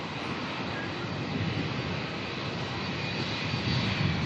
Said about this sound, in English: We're taxiing on out.